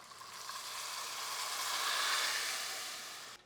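Liquid poured into a hot pan of couscous for a pasta dish sets off a loud, steady sizzle and hiss that swells toward the middle and then cuts off abruptly at the end, with no voices over it.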